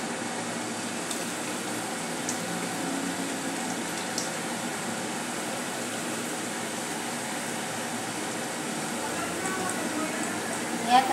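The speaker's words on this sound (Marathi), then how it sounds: "अशा प्रकारे तळण्यासाठी टाकून घेऊया।" Potatoes deep-frying in a pan of hot oil make a soft, continuous bubbling hiss that stays even and moderately quiet throughout, with a slight rise in the last moment.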